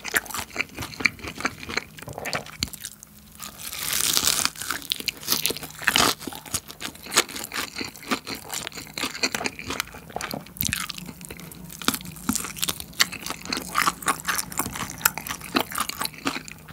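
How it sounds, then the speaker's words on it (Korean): Close-up biting and chewing of crunchy bburinkle fried chicken drumsticks coated in sauce, with dense, sharp crackling crunches and wet chewing continuing steadily, loud and near, no talking. "맛있는데 좀 바삭하게 먹어보고 싶다."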